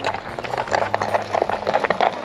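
A horse's hooves clip-clop close by on a riverside path beside the Rhône, a quick, uneven rhythm of sharp knocks over faint background noise.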